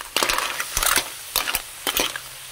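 Ingredients for tinolang kinhason, a clam soup, are sautéed in a pan, giving several sharp bursts of sizzling and scraping in an uneven rhythm, close and fairly loud, with no voices.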